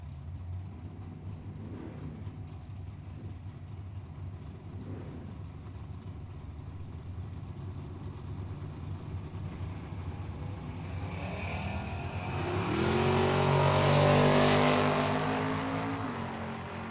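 Drag racing cars at Tucson Dragway: a steady engine drone builds into a loud launching roar that swells near the end and then fades, with no talking.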